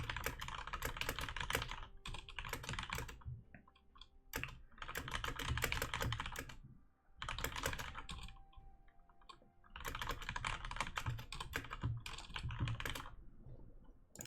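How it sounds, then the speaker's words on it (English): Computer keyboard typing comes in close, rapid bursts of clicking keys, broken by short pauses, with no talking. "I can barely type, my fingers kinda still injured"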